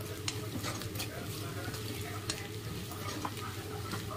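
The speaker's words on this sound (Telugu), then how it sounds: "ఇప్పుడు బాగా కలిసేలా కలుపుకుందాం." Chicken fried rice sizzles in a hot pan as a spatula stirs and scrapes it, with a steady frying hiss and scattered light clinks of metal on the pan throughout.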